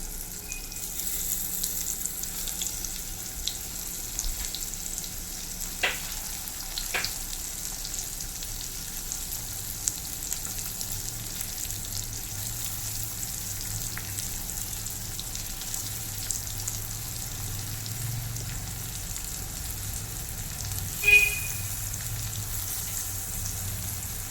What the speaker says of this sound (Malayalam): നമ്മൾ നേരത്തെ തയ്യാറാക്കി വെച്ചിരുന്ന ആ വഴുതനത്തിൻ്റെ ഓരോ പീസ് ഇതുപോലെ നമുക്കൊന്നിട്ട് ഫ്രൈ ചെയ്തെടുക്കാം